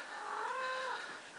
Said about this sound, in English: Is Crook gonna meow at me?